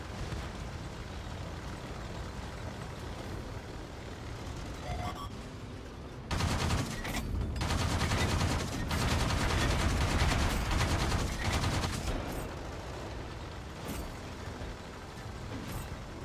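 Tank gun fire in World of Tanks, a dense, loud burst of rapid shots roaring for several seconds over constant engine rumble, then easing back to the steady droning background.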